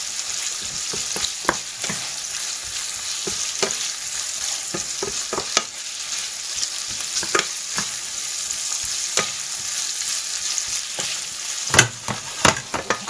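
King prawns flash fry in a pan for a Chinese takeaway prawn curry, giving a steady, loud, close sizzle broken by scattered sharp clicks and taps of a utensil against the pan.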